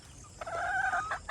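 A breeding chicken on a farm gives one loud, drawn-out call close by, sustained for nearly a second and standing alone with no talk.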